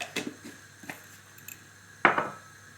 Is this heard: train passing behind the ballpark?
no